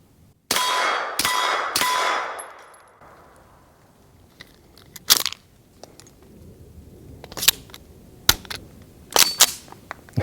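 A suppressed Alpha Foxtrot Romulus pistol fires 124-grain rounds: three sharp, loud reports in quick succession, each with a ringing tail, followed by scattered metallic clanks and clicks of handling at close range.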